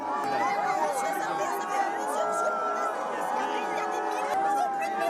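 Crowd jeering at remarks by French president Emmanuel Macron, a dense overlapping chorus of shouts and voices sustained at steady loudness throughout.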